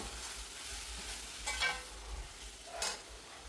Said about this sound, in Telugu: దీన్ని నార్మల్గా బాగా ఫ్రై చేద్దాం.